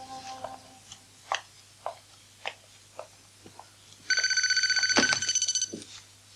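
A telephone rings loudly in a quiet room with a steady electronic trill that cuts off partway through, while soft clinks and small household noises come before it.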